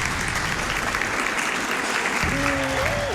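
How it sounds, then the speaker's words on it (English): A large audience at a speedrunning marathon, watching a Donkey Kong Jungle Beat run, applauds and cheers in steady, dense clapping that fills the space, with a few whoops rising near the end. "I know they're already cheering"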